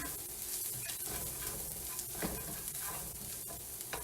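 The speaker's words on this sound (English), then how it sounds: "Now we're just going to stir this in." Spinach side dish being stirred as it sizzles in a pan, a steady dense frying hiss with soft scraping strokes running throughout, close and fairly even in level, with no talking.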